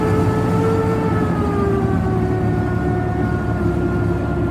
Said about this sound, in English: Go on, Robert, give it a good rev.